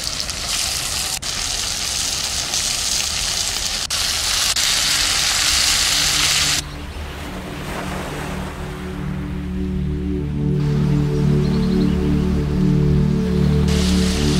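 Squid fries with onion and tomato in mustard oil, a steady close sizzle that later thins and gives way to a sustained tonal hum beneath the crackle.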